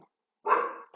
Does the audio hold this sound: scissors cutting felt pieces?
no